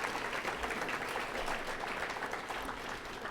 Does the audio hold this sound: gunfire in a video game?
no